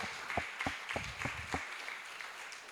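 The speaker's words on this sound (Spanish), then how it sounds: "Dale un aplauso al Señor." A church congregation claps, giving a short run of a few distinct hand claps that fades into a quiet room tone.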